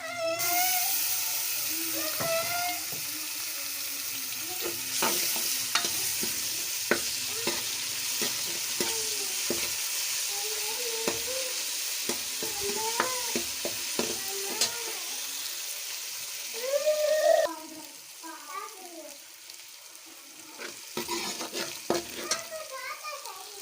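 Garlic-ginger paste sizzles and crackles steadily in a hot pan of browned onions while a utensil stirs and scrapes, loud and close, with a brief louder hiss partway through.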